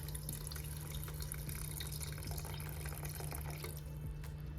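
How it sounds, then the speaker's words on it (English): Beef broth pours steadily into a cooking pot for birria, a continuous close splashing and trickling of liquid that stays even in level throughout, with no voices. "now I'm gonna add in the beef broth and the chilies that we rehydrated"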